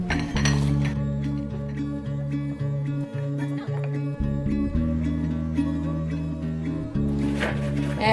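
Onions pressed into a glass jar with a jar tamper for pickled carrots with jalapeno, giving repeated clinks and knocks of the tool against glass, close and fairly loud, over a steady background hum.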